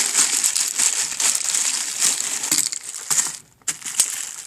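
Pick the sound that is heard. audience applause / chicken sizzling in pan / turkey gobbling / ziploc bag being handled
ziploc bag being handled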